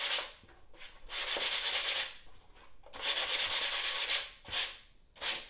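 A lampshade is hand-sanded with 240-grit sandpaper, giving close, steady, raspy scrubbing strokes in long runs with brief pauses and shorter strokes toward the end, with no talking.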